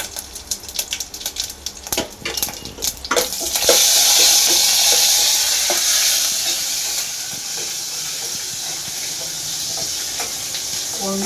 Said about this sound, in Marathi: राई आणि हे जिरं इथं आपण फोडणीला द्यायचं